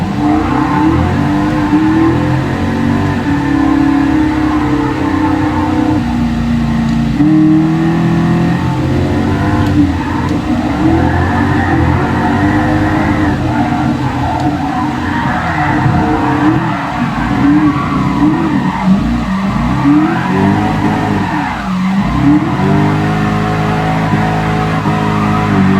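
A car drifting on the Nürburgring in Gran Turismo Sport, engine revving hard and continuously with rising and falling pitch over long tire squeal, loud and close throughout.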